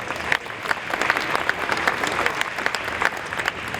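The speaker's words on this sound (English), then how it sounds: "he deserves a round of applause" Steady applause from a church-area audience honoring a longtime Baptist pastor at a community celebration, dense and sustained clapping filling the room for several seconds at an even level.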